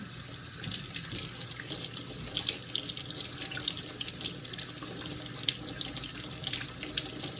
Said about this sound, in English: We're gonna wash, and we're gonna just scrub them gently.